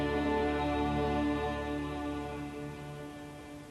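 A recording of Yves Klein's Monotone Symphony, an orchestra holding a single sustained chord, plays from a CD inside an apartment, steady and dense with many stacked harmonics, slowly fading slightly in level.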